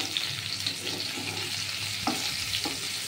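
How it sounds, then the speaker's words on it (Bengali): Potatoes frying in mustard oil with cumin seeds and bay leaf give a steady close sizzle, with a few brief stirring scrapes near the two-second mark. "জিরে আর তেজপাতা সর্ষের তেল দিয়ে সম্বার দিয়েছি"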